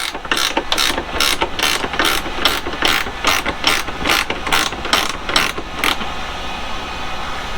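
A hand ratchet fitted with a 5/8 socket loosens a bolt on a Norcold 2118 RV refrigerator, giving a fast run of sharp, close clicking bursts in a steady rhythm over a background hum.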